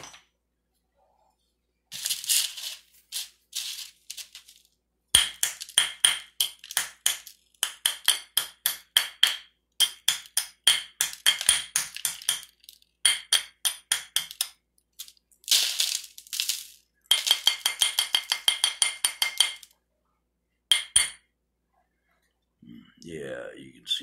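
A small hammer chips crystals off the edge of a geode, giving clusters of sharp, bright taps and cracks in rapid bursts, close and fairly loud, with brief pauses between volleys.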